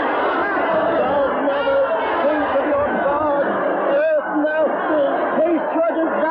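Panicked crowd murmuring in a 1937 radio drama about a city's fall, a dense, steady babble of many overlapping frightened voices close by, with no single voice standing out.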